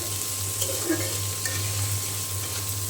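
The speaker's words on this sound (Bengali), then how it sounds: "তো আমার পেঁয়াজ ভেজে নেওয়া হয়ে গিয়েছে, আমি আলু দিয়ে দিলাম।" Potatoes added to fried onions sizzle steadily in a hot pan for a Bengali bean stir-fry, a continuous close frying hiss with faint stirring scrapes and no talking.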